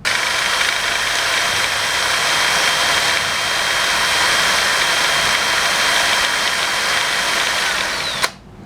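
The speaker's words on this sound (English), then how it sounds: "Now we're going to spin up the odometer so you can see that turn as well." Mechanical whir of the odometer being spun up on a vintage 1978-1979 Suzuki PE175 motorcycle, a steady, loud, drill-like whine holding for about eight seconds, then cutting off abruptly.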